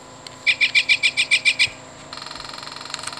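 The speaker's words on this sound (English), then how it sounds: "Northern flicker." Northern flicker call from a Wild Republic Audubon plush toy: a quick run of about eight sharp, high pulsed notes, followed by a fainter, fast buzzy trill, close and alone.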